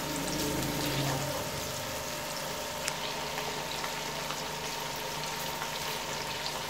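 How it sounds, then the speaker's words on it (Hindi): Water is poured into mutton keema with peas as it cooks in a pan, a steady, fairly faint bubbling sizzle that carries on alone without any talking. "और इसमें थोड़ा सा पानी डालेंगे।"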